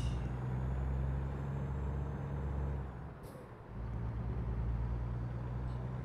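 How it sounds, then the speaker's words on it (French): Truck engine in a truck-driving video game: a loud, steady low diesel drone runs continuously, briefly dipping and quieting mid-way as if shifting or easing off, then resuming its constant rumble, with no talking. "En tout cas, le bruit du camion est sympa."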